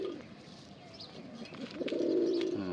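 A pigeon with a dark, raspy voice gives drawn-out rolling coos close by, the calls growing louder toward the end, with no talk.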